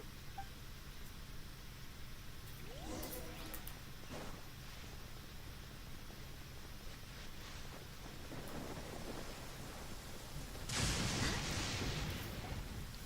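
A storm in the video game Genshin Impact rumbles with low thunder under steady rain and wind noise, with a heavier crash of thunder building near the end.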